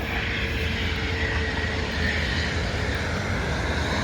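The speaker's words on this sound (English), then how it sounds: "Plane flying over us, heading into OIA." An airplane descending toward Orlando International Airport in Central Florida passes overhead with a continuous broad engine roar that stays loud and steady throughout, with no talking over it.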